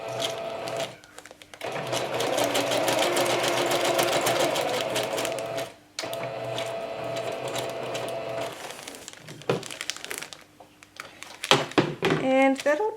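A sewing machine zigzag-stitches a vellum scrap pouch in rapid, steady bursts, pausing briefly between runs, close and moderately loud, with small handling clicks near the end.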